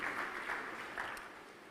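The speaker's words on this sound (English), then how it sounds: "Big applause for our keynote speaker." Brief audience applause at a summit opening ceremony, a soft steady patter of many hands heard from a distance, fading slightly toward the end.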